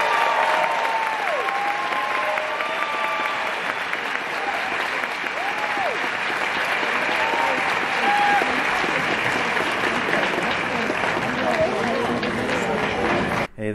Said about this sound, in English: Let's give a final round of applause to the team